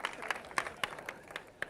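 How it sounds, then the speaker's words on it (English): Small, sparse audience applause at a 2002 Xbox press conference, a few thin, uneven claps spaced irregularly, faint and distant in a large hall. "So that's all the people with small hands clapping."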